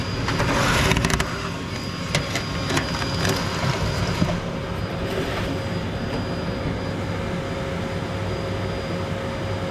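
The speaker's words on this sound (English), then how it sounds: "And the vacuum's running out of vacuum." A vacuum cleaner runs while clearing out an eco boiler stove, a loud, steady roar with a few knocks and rattles early on and no speech.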